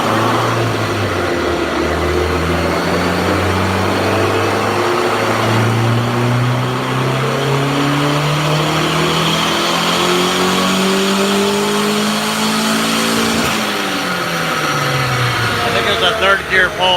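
A turbocharged Honda D16Y7 engine running at 9 psi boost roars on a dyno during a third-gear pull, its loud, continuous note climbing steadily in pitch for most of the run before dropping off near the end.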